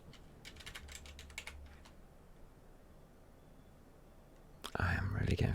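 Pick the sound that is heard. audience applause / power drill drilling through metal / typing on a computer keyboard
typing on a computer keyboard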